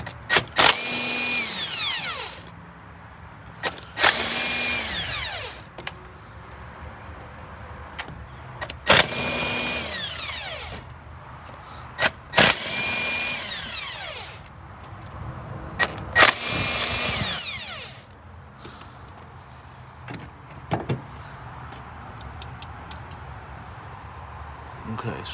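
A power tool spins in five separate loud bursts, each winding up and down, while removing the driver-side valve cover bolts on a Dodge Charger with the 2.7 engine, with quieter working sounds between the bursts.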